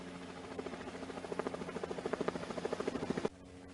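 A police helicopter flies overhead on a drug operation, its rotor beating in a steady rapid pulse that grows slightly louder before cutting off abruptly near the end.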